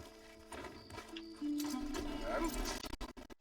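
A horse in the video game Red Dead Redemption 2 clip-clops with hooves and gives a faint whinny over game ambience. The hoofbeats grow louder partway through, followed by a few sharp knocks.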